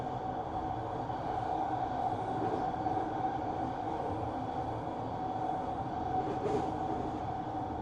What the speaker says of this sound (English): We're just passing Concord Pacific Community Park on the SkyTrain.